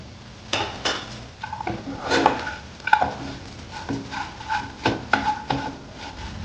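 A spoon stirring an ivy gourd fry with peanuts in a pan, giving repeated scraping and clinking strokes of metal on the pan in an irregular rhythm, loud and close, with no talk.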